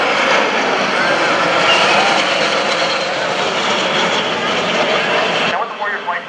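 Jet engines of the Warrior Flight Team aircraft roar loudly overhead at the 2015 NAS Oceana airshow, a sustained broad whine and rumble that cuts off abruptly near the end, leaving faint residual noise.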